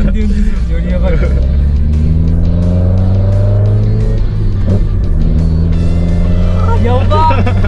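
A carbureted Mazda Roadster engine revs up on quick throttle blips, its loud rising tone climbing several times in the car's cabin, with voices talking over the engine sound.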